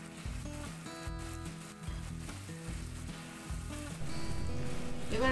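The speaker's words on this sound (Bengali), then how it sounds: "এবার পুরনো নারকেল দিয়ে পুরো মশলাটা একসঙ্গে ভালো করে ভেজে নিতে হবে।" A spice paste of ginger, green chilli, turmeric and garam masala fries with old coconut in a pan for mochar ghonto, giving a soft, steady sizzle. Faint background music plays underneath.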